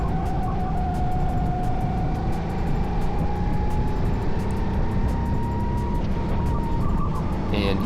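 Racing go-karts run on a reversed track during a league race, with the close engine droning loud and steady while its pitch climbs slowly, and other karts whine faintly around it.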